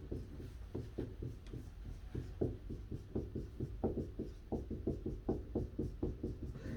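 A pen writing Chinese characters by hand, producing quick, close, soft taps and scratches in an uneven rhythm of short strokes, fairly quiet, with no speech over it.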